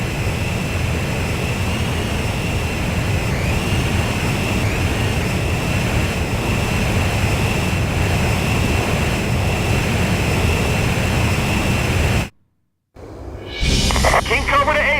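In Ace Combat 5, jet engines drone during aerial refueling as a loud, steady roar that cuts out briefly near the end before resuming.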